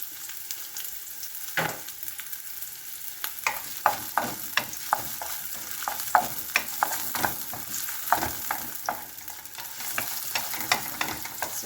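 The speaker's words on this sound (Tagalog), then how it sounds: "Maglagay po tayo ng kaunting mantika. Painitin lang po natin. So, ilagay na po natin ang ating bawang, sibuyas" Garlic and onion sauté in hot oil with a steady sizzle, while a utensil stirs them in repeated sharp scraping taps against the pan, close by with no talk.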